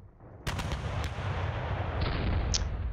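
Artillery and mortar barrage in the Panzer Battles North Africa 1941 strategy game: a sudden loud blast followed by rapid cracking shots and a sustained rumbling roar of gunfire with sharp reports throughout.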